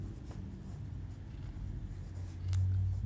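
Pen or marker writing steadily on a board or paper during a 12th-grade maths lesson on triangle angles, a continuous faint scratching with no voice over it.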